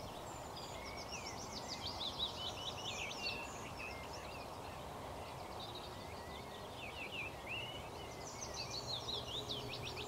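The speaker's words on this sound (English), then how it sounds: "You might be able to hear a rookery in the distance." Distant rooks caw in bursts over a steady outdoor hush, with a cluster of calls early on and another toward the end.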